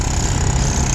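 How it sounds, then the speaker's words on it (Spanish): Electric jackhammers break up freshly laid paving stones at the Santiago Bernabéu stadium works, a loud, continuous rattling hammering that fills the short stretch with no voices. "Y aquí están picando justo en esos adoquines que han colocado hasta hace pero que muy poquito"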